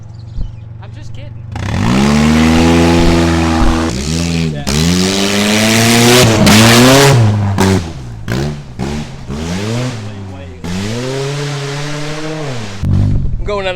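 A cheap used race car bought secondhand revs and accelerates with a loud, rising engine note, easing off and building again several times, with voices shouting over it.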